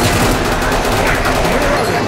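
Heavy machine gun fire in the Killing Floor video game, a loud, continuous rapid burst of shots rattling without pause over about two seconds, with no talk.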